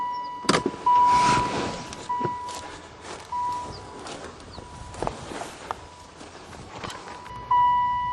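A van's engine cranks but fails to catch after gas is poured into the intake, heard as short, close bursts of starter whirring separated by clicks and quieter pauses.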